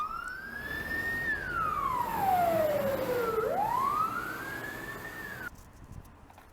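A fire engine siren wails as firefighters respond on a street in Sakhalin, sweeping down in pitch, then back up in a long slow cycle. It is loud and fairly close, then cuts off near the end.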